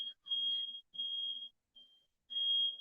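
A smoke alarm sounds in piercing, steady beeps, four bursts of varying length with short gaps, loud and close in an otherwise quiet room.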